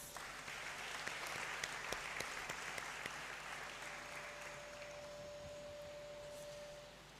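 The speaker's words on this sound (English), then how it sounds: "surely, I believe she deserves another round of applause" A round of audience applause at a university graduation congregation in a great hall, many hands clapping steadily for several seconds, softer and distant, with a faint sustained tone emerging and the clapping tapering near the end.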